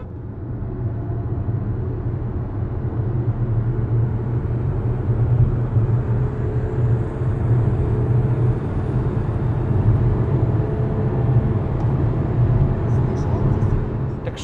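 A 180 hp VW Tiguan accelerating from 80 km/h, heard as a steady, heavy drone of engine and road rumble inside the cabin that holds level with no break for the whole stretch.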